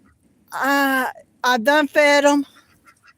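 Ducks on a small farm honk and quack in a few loud, close calls at feeding time, heard alongside a person talking.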